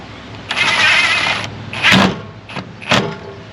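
An impact driver drives stainless self-tapping screws through a bumper bracket on a classic BMW: one long, loud rattling burst, then two or three short hammering bursts, close by.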